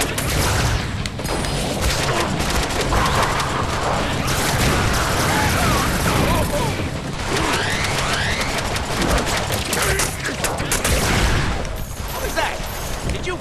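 Shotgun blasts and dense gunfire from the Deadpool video game, loud and continuous, with crashes and booms piling up throughout and a voice talking over the action.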